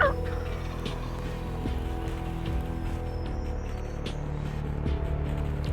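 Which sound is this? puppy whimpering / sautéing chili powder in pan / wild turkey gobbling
wild turkey gobbling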